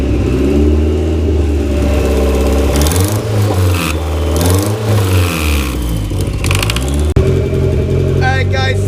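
A boosted Mazda Miata engine with an open downpipe and a leaking exhaust manifold, missing its gasket, revs up and down loudly and close by, the engine note rising and falling in swells throughout.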